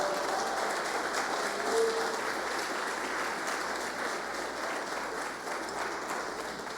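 A church congregation claps steadily and strongly, a thick continuous wash of applause filling the room for the full stretch.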